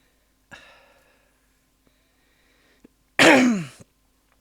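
Coughing and throat clearing from a person during a bobbin lace crafting session: a short rough clear near the start, then a loud, harsh burst of coughing about two-thirds through, close to the microphone with no talk.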